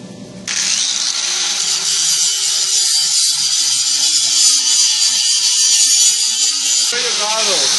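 An angle grinder cuts into a steel plate being fitted to a Harbor Freight truck rack on a Toyota Tundra, spinning up abruptly and holding a loud, steady high-pitched whine close by before winding down.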